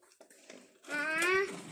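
Water pours into a container with a rising gurgle that grows louder near the end, after a few soft knocks.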